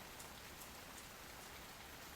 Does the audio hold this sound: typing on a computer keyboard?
no